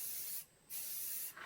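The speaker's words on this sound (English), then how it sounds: "when you spray paint, you just hold back and just make a" A spray paint can hisses in two close bursts separated by a brief pause, used while making a metal planter; the spray is bright and steady, with no voices.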